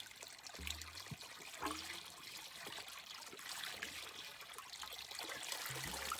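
River current flowing steadily with a soft trickling, gurgling wash, fairly faint and continuous, with occasional low bumps and no voices.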